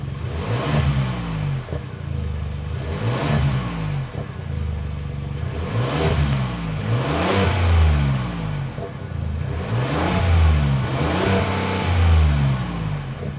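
A 2025 Ford Expedition's standard-output 3.5-liter twin-turbo EcoBoost V6 revs up and settles back about five times in a steady cycle, loud and close, with the exhaust droning between pulls.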